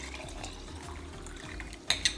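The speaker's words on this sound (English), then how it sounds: "And then I'm gonna just pour in some hot water." Hot water is poured into a cup holding fresh-squeezed lime juice, a close, steady liquid gurgle ending in two sharp clinks of the cup or a utensil.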